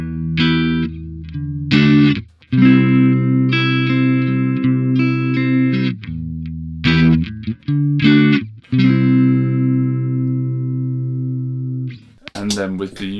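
Electric guitar run through an EHX Goodvibes pedal with both intensities near 9 o'clock, playing sustained chords and short phrases with a swirling, pulsing modulation, loud and close, with no talking over it.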